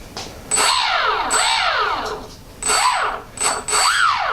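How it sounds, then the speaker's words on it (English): The brushless electric motor on a Multiplex PC-6 Pilatus RC model plane spins up in repeated bursts, a whining tone rising and falling with throttle several times, loud and close with brief lulls between runs. "the motor is turning correctly on that"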